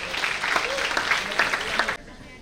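Audience applause for contestants at a national conference of CA students, a dense, steady wash of clapping that cuts off abruptly near the end, leaving a quiet room.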